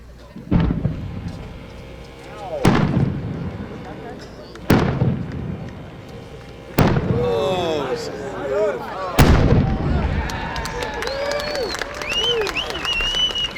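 Multi-break 7-inch Maltese firework shells boom in a series of about five sharp, loud reports, each trailing into crackling and whistling, while a crowd cheers and people talk.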